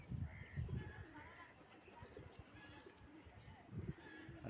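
Pigeons released from their loft coo softly and repeatedly at a distance, with a few chirps and faint outdoor background noise.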